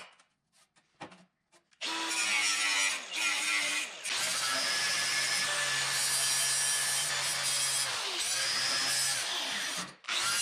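A power tool cuts through a thin sheet for a car heat shield, a loud, harsh grinding-rasp that runs steadily for about eight seconds after a few faint clicks, with brief dips in intensity before stopping.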